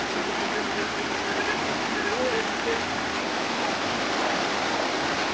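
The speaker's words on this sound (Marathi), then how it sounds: "ओढ्याचा आवाज सुद्धा किती जास्त येत आहे." A large forest stream on a trek route rushes loudly as a steady, broadband roar with no pauses, close by and filling the whole scene.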